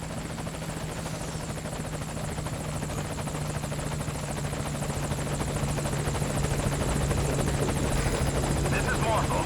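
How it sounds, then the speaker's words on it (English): A helicopter arrives in the video game Metal Gear Solid V: Ground Zeroes, its steady rotor drone and engine hum sustained throughout and swelling slightly louder as it nears, with game radio chatter and voices mixed underneath. "Here comes the chopper."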